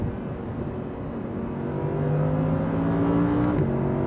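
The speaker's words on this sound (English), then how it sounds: "the base R8 exhaust V10 sounds as if a Huracan is accelerating 3 miles behind me" An Audi R8 RWS with a V10 engine accelerates, the muffled, subdued exhaust drone climbing steadily in pitch through a gear change, heard from inside the car with no talking.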